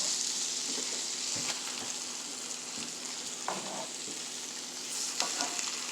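Top sirloin steaks cut from a roast hit a hot pan with garlic and rosemary, crowding it, and a loud, steady sizzle and crackle fills the space, with a few clanks of stirring and pan contact along the way.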